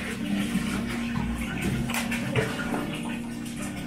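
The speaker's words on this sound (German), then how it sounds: "Also wir haben die Wasserflaschen unten aufgefüllt, um hier den Bottich auffüllen zu können" Water from refilled bottles pours into a tub in Addis Ababa, Ethiopia, making a steady, close splashing and gurgling that lasts the whole clip with no talk.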